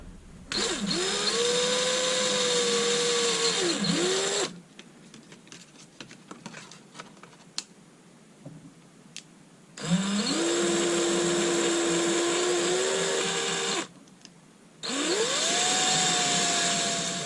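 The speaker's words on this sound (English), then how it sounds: "For the body clips, I'm just going to drill through." A power drill whines through the plastic body of an HBX 2995 Desert Truck RC model in three long bursts, with a pause of quiet tapping and handling noises between the first and second.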